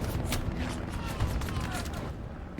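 Artillery and gunfire in a Stalingrad tank battle video game with a KV-2, a rapid burst of sharp cracks and rumbling booms at the start, then continuous low battle rumble with a voice talking over it.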